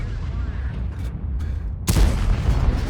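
A St Emil tank's main gun firing in a tank battle video game: one sudden, heavy boom near the end, after a low engine rumble, leaving a loud, rumbling tail.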